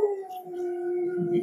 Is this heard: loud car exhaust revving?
no